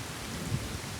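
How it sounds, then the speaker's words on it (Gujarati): Rain falls steadily outdoors during a stormy spell, a dense hiss of drops with a low rumbling undertone, brief and continuous. "વરસાદ પણ ચાલુ થઈ ગયો મિત્રો થોડો"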